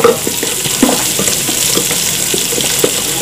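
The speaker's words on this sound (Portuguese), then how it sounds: "vamos pôr o bacon primeiro. E voltei para mim pôr a calabresa também para fritar" Bacon and calabresa sausage fry in a pan for a year-end farofa. The sizzle is loud and steady, broken by small crackles and stirring clatter, with no voices.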